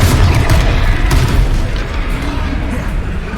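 Confringo fire spell in Hogwarts Legacy, a video game: a loud booming blast opens, then a rumbling, crackling explosion tail fades over a few seconds, with a voice faintly underneath.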